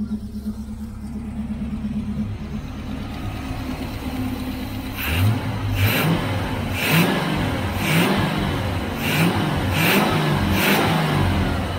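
A 1985 Chevrolet Camaro IROC-Z V8 runs on a knock-off carburetor, idling steadily up close and then revving in a series of rhythmic throttle blips.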